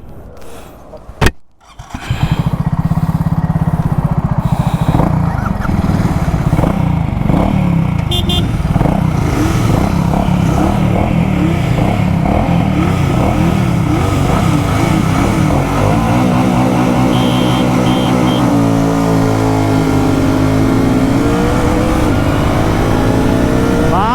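Two motorcycles, a GT650 and a BSA Goldstar 650, roar loudly and steadily under way after a brief start, with engine pitch rising and falling as they accelerate and shift, close to the microphone throughout.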